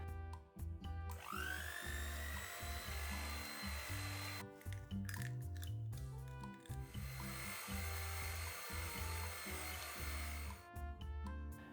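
An electric mixer on medium speed beating eggs into bundt cake batter: a continuous motor whine that rises in pitch at the start, drops out briefly near the middle, then resumes until near the end.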